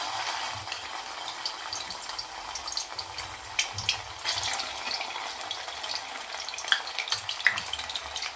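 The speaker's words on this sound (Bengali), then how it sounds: "তেল দেওয়ার পর আদা রসুন বাটা দেওয়া হয়ে গেছে।" Oil with ginger-garlic paste sizzles in a kadai while ghugni is being cooked, a continuous close crackle with small pops and occasional stirring clinks.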